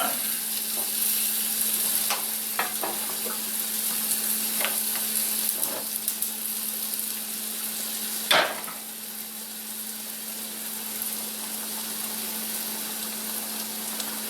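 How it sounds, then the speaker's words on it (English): Ground beef simmers and sizzles in a pan, a steady quiet crackle with occasional clicks and a louder clatter partway through, over a constant low hum. "That's a little more than a simmer, so I'm going to turn it down."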